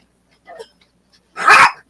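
Dog barking for food, a faint short yip followed by one loud, close bark in an otherwise quiet room.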